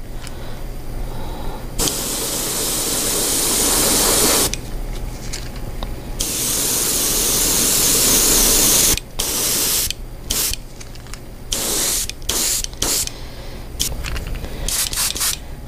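An airbrush lays yellow paint onto a Klash 9 Low fishing lure in long bursts of airy hissing. Quieter gaps separate the bursts, which shorten into quick choppy puffs toward the end, and no voices are heard.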